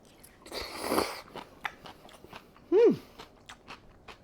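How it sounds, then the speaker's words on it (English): Someone bites into creamy cucumber noodles with shredded chicken, giving one crisp, wet crunch up close, followed by soft chewing and a brief hum of enjoyment. "You'll be slurping cucumber noodles with chicken."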